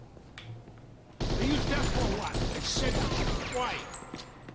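Sustained burst of gunfire in the Mafia 2 video game, a dense loud volley that kicks in abruptly and rattles on for several seconds, with faint talk in the quieter moment before it.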